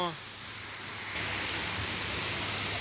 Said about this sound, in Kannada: 4 ಗಂಟೆಲಿ ತುಂಬ ಭಾರಿ ಮಳೆ ಆಗುತ್ತೈತೆ ಮಂಡ್ಯ ಜಿಲ್ಲೆಯಲ್ಲಿ